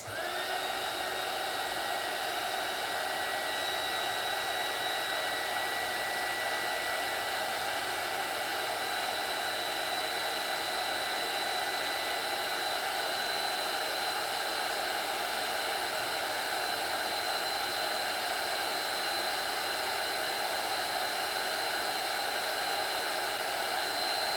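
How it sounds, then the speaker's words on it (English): A heat gun blows steadily on colored pencil artwork, a continuous loud airy whoosh with a faint high whine, unbroken and without talk. "let me hit it with the heat gun"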